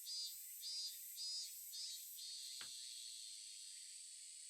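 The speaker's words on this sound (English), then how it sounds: "The cicada's voices raised in chorus." Cicadas chorus in the visual novel game Higurashi, a steady high-pitched insect drone that pulses in four quick swells near the start, then holds as a continuous buzzing wash with one brief sharp click midway.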